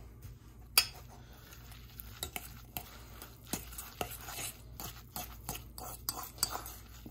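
A fork scrapes and clinks steadily against a bowl while crab stuffing is mixed by hand, with irregular sharp taps and soft stirring scrapes close by, no talking.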